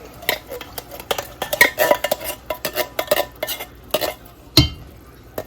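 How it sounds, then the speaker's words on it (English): Canned pinto beans dumped into a pot during meal prep, right after black beans: a run of close clinks, scrapes and soft thuds of can and utensil against the pot, ending with one sharp knock. "Dump in the pinto beans."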